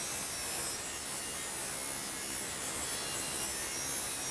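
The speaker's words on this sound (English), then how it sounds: "I'm going to bring the sharpener to the blade face, power on, and draw across the edge several strokes" Work Sharp Mk.2 powered knife and tool sharpener drawn across a blade edge, giving a steady, dense abrasive grinding hiss with an underlying motor hum, continuous and fairly close.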